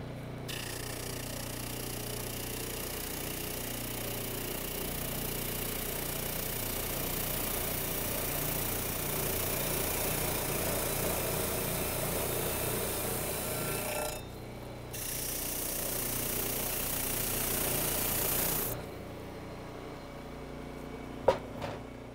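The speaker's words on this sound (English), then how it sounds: "Sometimes the sander gets clogged up with previous things, so this is a rubber sponge you can buy at the hardware store or any wood shop." A shop sander runs steadily as a rubber cleaning sponge is pressed against its clogged wheels, a continuous rough whirring rub that cuts out briefly midway, then resumes before the motor stops and a couple of clicks follow.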